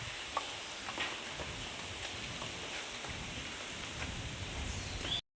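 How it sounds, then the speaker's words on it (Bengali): Strong wind and rain during Cyclone Remal make a steady broadband roar with patter, continuous and fairly loud for about five seconds before cutting off abruptly, with no voices. "এখন বৃষ্টিটা কম আছে তো হাওয়াটা বেশ ভালোই জোরে হচ্ছে"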